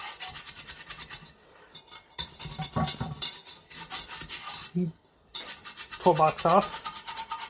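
An old toilet brush scrubs the inside of a cast iron pot with uneven rubbing strokes and short pauses, ending with a few harder scrapes. A voice speaks briefly.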